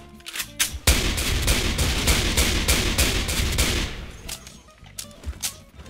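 Full-auto fire from an M14 EBR rifle in the video game Special Force 2, a loud, dense burst of rapid shots running several seconds, then tapering into a few scattered single shots.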